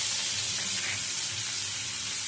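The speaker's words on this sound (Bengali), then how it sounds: "ফোড়নের জন্য দিয়ে দিচ্ছি পেঁয়াজ কুচি।" Chopped onion dropped into hot oil left from frying bhetki fish, giving a steady, close, bright sizzle that holds evenly throughout with no talking.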